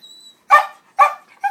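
Two sharp, close dog barks a half second apart, followed by the start of a third, with a faint high whine before them.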